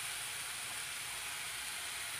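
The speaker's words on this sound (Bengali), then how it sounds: "আমি কিছুক্ষণ পর পর অনবরত নাড়ছি, নাহলে তলা থেকে নিচ থেকে পুড়ে যাবে।" Masala sizzling and frying in a pan while being stirred for chicken with taro (kochu mukhi) curry, a steady soft hiss with no voices.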